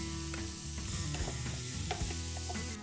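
Onions and curry leaves crackle and sizzle in melted butter in a pan. Small pops and scraping stirs sound close by, and no one speaks.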